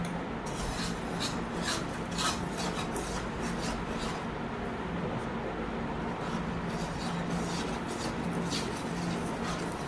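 A therapy tool is rubbed back and forth over the body for back pain. It makes a continuous raspy scraping with rhythmic strokes, close up.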